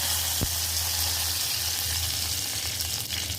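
Mustard seeds and curry leaves hit hot oil in a pan and sizzle steadily, a dense bright crackling hiss that stays loud throughout, with a faint tap early on and no voices.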